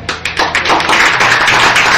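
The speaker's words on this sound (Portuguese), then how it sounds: "Dê uma salva de palmas, Senhor," Church congregation breaking into applause, a few scattered claps quickly swelling into steady, dense clapping from many hands, loud and close.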